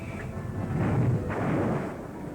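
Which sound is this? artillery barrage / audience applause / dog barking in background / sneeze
artillery barrage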